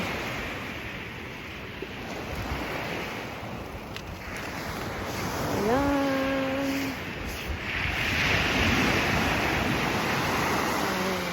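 Waves roll steadily onto a seashore under wind noise, swelling louder in the second half, while a short voice and a brief tonal call rise briefly over the surf.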